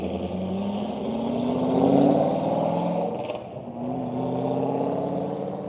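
A race car heads back out onto a track past Corvettes, a Subaru and other sports cars, its engine droning steadily, swelling louder midway and then easing as it pulls away, with no voices.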